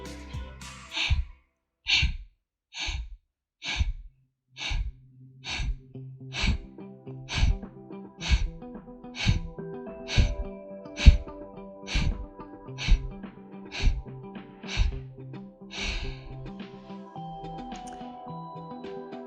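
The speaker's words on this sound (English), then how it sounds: "Keeping your face relaxed as you do Kapalbhati breathing." Kapalbhati yoga breathing gives a long run of about seventeen sharp, forceful nasal exhales at a steady rhythm of roughly one per second, close and clear, with soft background music.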